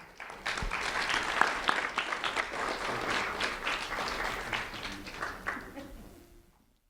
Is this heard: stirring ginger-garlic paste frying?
no